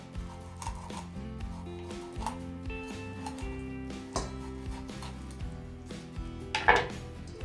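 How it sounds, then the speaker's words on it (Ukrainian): A sharp knife chops crosswise through the small bones of a crucian carp on a board, a series of close, distinct cutting knocks against soft background music, with no talking. "Навскоси так перерізаю кісточки."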